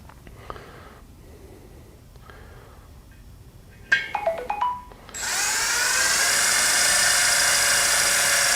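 A power drill with a small bit bores into a new LGC Moto wheel rim. A few faint squeaks and taps come first, then the motor spins up into a loud, steady high whine that holds to the end.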